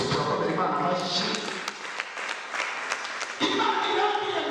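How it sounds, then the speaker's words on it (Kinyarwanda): A church congregation claps for God in a burst of applause, a dense patter of many hands that swells, then thins. A voice speaks over the clapping. "Turakomera Imana amashyi."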